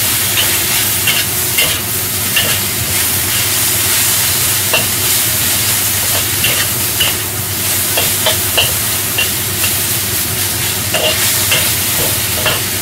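Choy sum stir-fried with preserved mustard greens in a wok, a loud close sizzle with frequent rhythmic clacks and scrapes of the spatula throughout, no talking.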